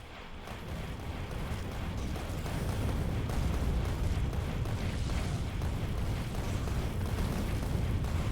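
Rapid rocket fire and explosions in Factorio, a steady dense roar of overlapping blasts that swells and holds loud for several seconds without clear gaps.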